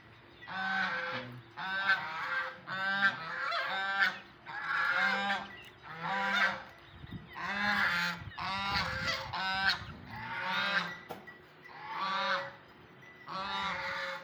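Ducks on a dairy farm quack in repeated bursts of loud, nasal calls, about a dozen in a steady rhythm, close by and with no talking.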